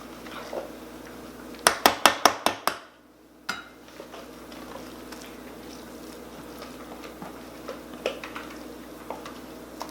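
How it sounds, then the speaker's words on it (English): A spoon clacks rhythmically against a non-stick pan about six times while scooping cauliflower pizza crust mixture, followed by a softer knock and scattered light scraping and tapping in a home kitchen. "my pan, I'm using a non-stick pan. I'm going to go ahead and scoop that in here"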